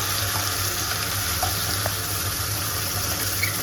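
Spinach paste cooks in a hot pan with a steady, close sizzle and a few faint stirring taps over a low background hum. No voices are heard.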